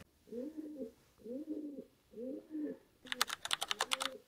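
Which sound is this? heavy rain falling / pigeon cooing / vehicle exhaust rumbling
pigeon cooing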